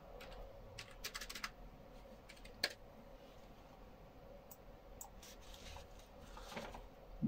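Value keyed in on a computer keyboard while setting up an Arduino lightning monitoring system: scattered soft key taps in small clusters over a quiet hum, with one sharper click standing out.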